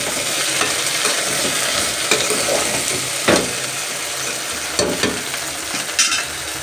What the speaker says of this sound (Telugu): హై ఫ్లేమ్లో వేయించుకుంటే బెండకాయ బంక భిన్నగా పోతుంది